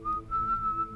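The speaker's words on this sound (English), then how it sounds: "Turning the key, I froze as the whistling began a third time, now directly behind me." Eerie whistling in a horror story: a single sustained, steady whistled tone, clear and fairly close, alone over a faint low background.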